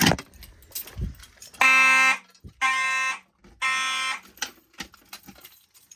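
A building fire alarm system sounds after a manual pull station is pulled during a walk test, giving three loud, buzzy horn blasts in a coded pattern separated by short gaps, with handling clicks and rustle around them and no talking.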